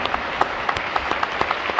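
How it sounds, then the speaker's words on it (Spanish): A church congregation claps together in praise of Jesus during a Spanish-language sermon, a brisk, fairly even run of crisp handclaps filling the room without speech. "El aplauso a Jesús entonces."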